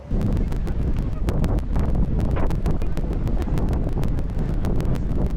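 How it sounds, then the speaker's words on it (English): Steady, heavy wind buffeting the microphone on the deck of a cruise boat on the Bosphorus Strait, Istanbul, a constant low roar with crackling gusts and rustle, no voices. "It is cold and windy out here"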